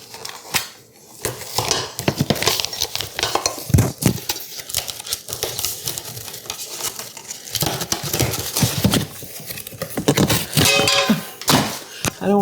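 A cheap aluminum frying pan, about ten inches, is pulled from its packaging in a kitchen, with close crinkling, scraping and clattering handling noises in irregular bursts throughout.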